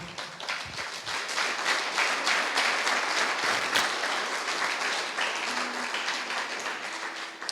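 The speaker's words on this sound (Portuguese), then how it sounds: "Você pode aplaudir o Senhor?" Church congregation applauding in praise after a closing prayer, a steady wash of many hands clapping that fills the room evenly for several seconds with no voices over it.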